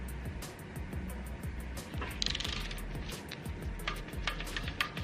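A ratchet tightens a 10mm bolt on a Toyota 2JZ engine being fitted into a BMW E46, giving a fast, close, continuous run of clicking pawl strokes throughout, with no talk over it.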